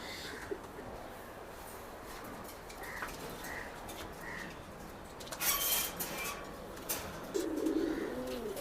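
Racing pigeons coo softly in a loft, a few low throaty calls scattered over quiet background, with brief rustles and a louder burst of cooing near the end.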